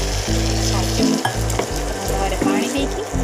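Masala fries and sizzles steadily in a pan for a mushroom curry, close and loud, with rhythmic scraping stirs breaking through the constant hiss.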